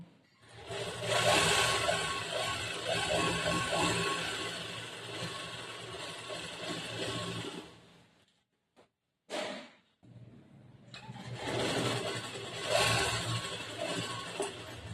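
A sewing machine stitches a blouse with white thread in a long steady run of mechanical whirring, stopping briefly with a few short bursts before resuming; close and fairly loud, no voices.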